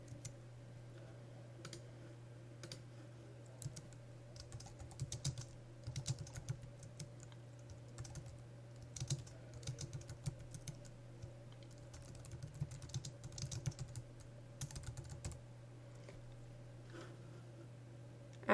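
Typing on a computer keyboard: a steady stream of quiet, close key clicks in irregular bursts over a constant low electrical hum, with no voices.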